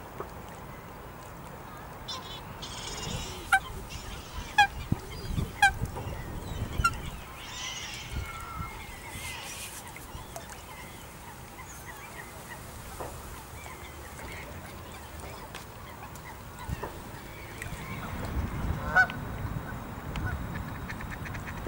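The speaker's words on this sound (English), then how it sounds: "There are also larger bird species such as swans and geese at the mere." Geese and other waterfowl call intermittently at a distance on a lake, scattered honks and quacks over soft outdoor ambience with occasional low rumbling.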